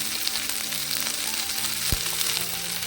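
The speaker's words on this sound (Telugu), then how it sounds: "పచ్చిమిర్చి బాగా వేగాలండి, వేగితేనే టేస్ట్" Green chillies, coriander seeds and peanuts fry in a pan with a steady, close sizzle and soft crackle, broken by one brief knock near the end.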